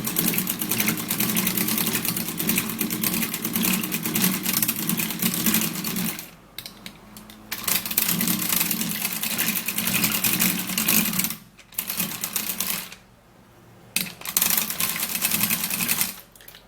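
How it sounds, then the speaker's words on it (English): A hand-cranked manual mixer churns a homemade anti-ageing mixture, a steady close whirring and rattling that carries through most of the stretch, breaking off briefly twice before starting up again. "I have a manual mixer in which I'm going to be using to mix this all up"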